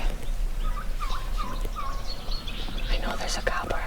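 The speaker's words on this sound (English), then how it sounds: "I know there's a gobbler on the ground." Wild turkeys calling on the ground during a hunt: a run of short, rapid gobbling and clucking notes at moderate distance, with soft whispering voices nearby and outdoor background noise.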